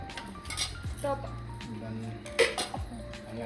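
A spoon and dishes clink and clatter in a few sharp, scattered strikes during a meal, close by, under people talking.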